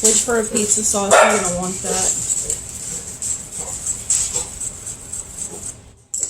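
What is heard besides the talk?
dogs barking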